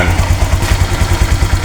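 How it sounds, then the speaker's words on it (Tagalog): A motorcycle engine idles while warming up before a delivery run, giving a steady, close, loud pulsing chug with a faint mechanical clatter and no talk. "Pinainit ko lang yung motor para maganda-ganda ang takbo."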